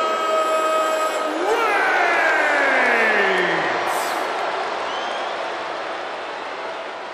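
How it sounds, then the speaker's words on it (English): Capacity arena crowd roaring in the WWE 2K22 video game before a John Cena versus Roman Reigns Universal Championship match; a dense, loud, steady roar fills the whole stretch, with sliding tonal sweeps over the first few seconds, then easing slightly. "This capacity crowd is waiting with bated breath."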